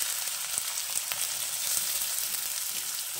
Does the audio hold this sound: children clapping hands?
no